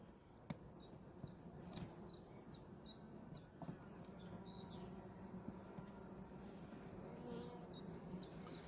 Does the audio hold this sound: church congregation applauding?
no